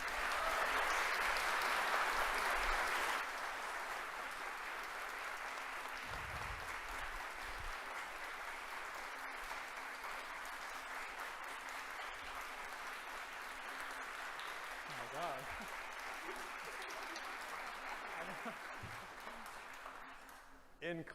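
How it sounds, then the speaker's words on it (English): A crowd applauds at a facility opening event, steady, sustained clapping with some voices mixed in, a louder surge at the start before settling into an even wash that fades at the end. "Can I get a round of applause for them?"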